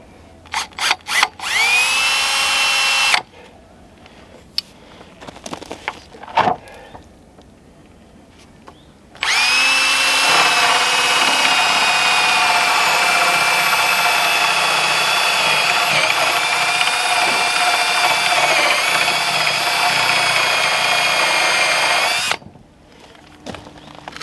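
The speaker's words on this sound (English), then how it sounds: "I gotta use a Forstner bit here" A power drill with a Forstner bit bores into wood on a barndominium build, starting with a few short bursts and then one long, steady, whining run of about thirteen seconds, close and loud.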